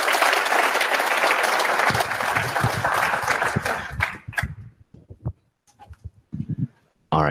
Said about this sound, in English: Grab another round of applause.